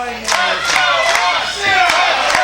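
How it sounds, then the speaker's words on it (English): A wrestling crowd in the Sportatorium cheers loudly during a tag team tournament match, a dense roar of voices and shouts with sharp surges and impacts, close and sustained. "Crowd in the Sportatorium here really taking to Oz Tyler."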